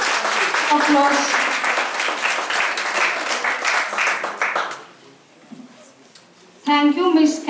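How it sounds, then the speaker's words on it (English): An audience at an academic keynote event claps in a dense, steady round of applause for several seconds, then it fades to near quiet before a short fresh burst of clapping and voices returns. "Give a big applause."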